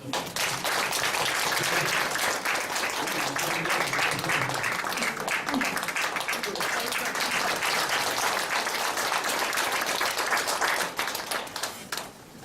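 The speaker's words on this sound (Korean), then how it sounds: "박수 한번 쳐주시죠" Outdoor audience applause at a memorial ceremony in a cemetery honouring American soldiers and their families, a long, steady crowd clapping that holds even and fairly loud before tapering off in the final second.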